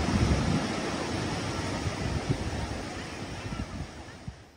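Calm, gentle waves wash onto the gently sloping Binuangen beach facing the Indian Ocean, a steady broad surf hiss with wind rumble and soft, irregular swells that slowly fade.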